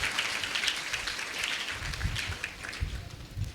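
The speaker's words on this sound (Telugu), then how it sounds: "అర్థమైన వాళ్ళు గట్టిగా చప్పట్లు కొడుతూ దేవునికి మహిమ చెల్లిద్దామా?" A church congregation at Shekinah Ministries in Guntur claps loudly in a sustained, dense patter of many hands, heard from a moderate distance with no break.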